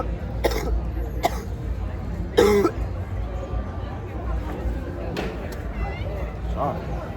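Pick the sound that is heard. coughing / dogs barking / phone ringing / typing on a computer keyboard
coughing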